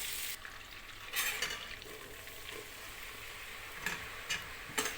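Butter melts and fries in a pot, giving a faint, steady sizzle. A utensil taps and stirs now and then, making a few light clicks up close, with no voices.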